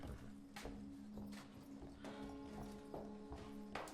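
Horse hooves clop on the floor of a record store in a TV drama scene, with steady irregular thuds over a noisy background, a faint sustained tonal hum, and a horse snorting now and then.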